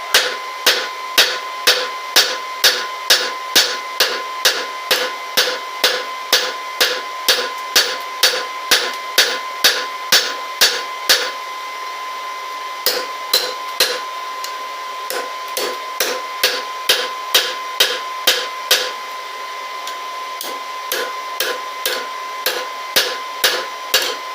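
Rapid ringing hammer blows strike hot rebar on an anvil while tongs are forged from scrap, steady bursts of sharp metallic clangs with a brief pause partway before the regular hammering resumes, loud and close.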